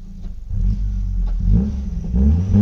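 Car engine revving low and rumbling as it backs up a short distance and bumps, a close, steady mid-pitched drone with small surges and clatter, no talk.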